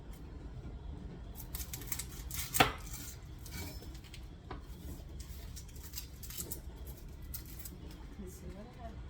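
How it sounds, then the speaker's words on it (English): Vegetables are chopped for a tuna casserole, giving soft, irregular knife taps on a cutting board with one sharper knock. The sound is quiet and close against a faint background murmur. "Okay, we're going to start chopping some vegetables."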